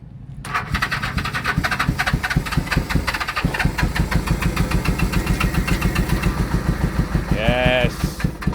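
An old Japanese motorcycle engine, freshly restored, fires and keeps running with a steady, rapid rhythmic chug, loud and close, with people talking over it throughout.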